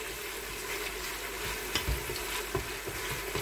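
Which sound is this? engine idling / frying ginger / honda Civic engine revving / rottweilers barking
frying ginger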